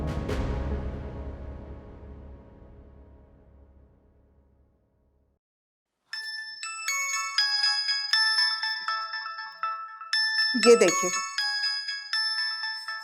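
An incoming call sets a mobile phone ringtone chiming in a repeating bright melodic pattern, entering after a fading low tone and a pause, with a person speaking briefly over it midway.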